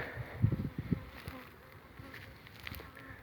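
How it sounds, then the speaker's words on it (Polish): Honeybees buzzing over a flowering mustard field beside an apiary, close and faint-to-moderate, with a few louder buzzing passes near the start and then a softer steady hum. "Pierwsze, pierwsze pszczółki sobie znalazły pierwsze kwiatuszki."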